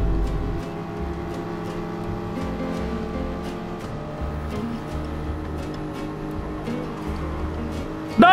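A Toyota Supra racing car engine drones at steady high revs in Gran Turismo, a continuous layered hum with small pitch shifts and a sharp burst at the very end.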